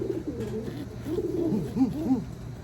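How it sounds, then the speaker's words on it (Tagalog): A hen gives a series of soft, low, warbling calls close by, several short murmured notes bunched together over faint background hum. "Ito, hen. Umuungol eh."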